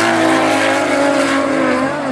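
A drift car thrown big and early into the Achilles radial corner during a top 16 battle, a loud close engine wail with tire roar sweeping down in pitch as it slides through.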